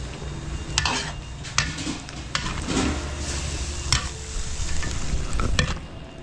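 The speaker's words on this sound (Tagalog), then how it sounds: "Ginigisa lang namin to sa bagoong" String beans and squash sautéing in shrimp paste, a loud close sizzle with sharp spatula clanks against the pan at irregular intervals.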